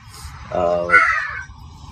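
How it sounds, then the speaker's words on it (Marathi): A crow gives a couple of loud, harsh caws close by, rising briefly over quiet background noise. "कावळे पण आहेत, कावळे तर आहे"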